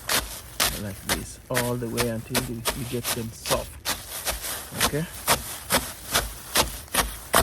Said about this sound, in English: and then we crush them with a hammer like this all the way until we get them soft.